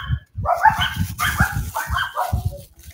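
Several dogs bark and yip in quick, close bursts, nearly continuous, with a livestream host's voice partly blended in.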